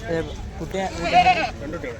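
A Malabari goat bleats at a Sunday goat market in Chattipparamba, with a few short calls over the middle of the clip amid steady nearby conversation.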